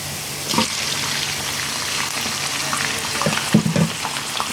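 Chicken dropped into a hot pan and frying for chicken pastil, a steady loud sizzle throughout with a few soft clinks and stirring scrapes near the end, no voices.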